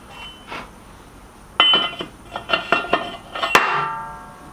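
A new metal cylinder liner for a custom three-cylinder A-series engine is handled and fitted, giving a string of sharp metallic clinks and knocks, close and at an uneven pace, with a ringing tap near the end.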